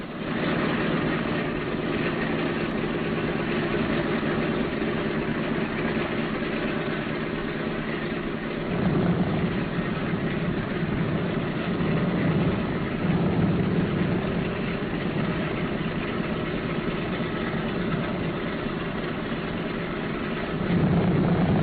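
Simulated B-17 bomber engines idle in a flight simulator with a steady, continuous drone, swelling slightly at points as more engines join, with no speech over it.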